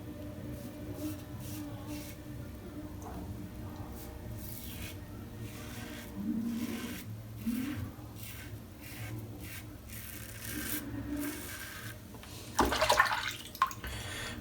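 Water sloshes and splashes close by as a Karve CB safety razor is rinsed, with soft rubbing and a louder splash near the end, no talking.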